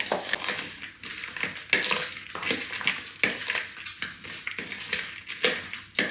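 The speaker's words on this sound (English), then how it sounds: "So let's give it a stir, shall we?" Spotted Dick batter with dried fruit is stirred in a bowl, giving a steady run of close, scraping and knocking strokes in a regular rhythm, with no talking.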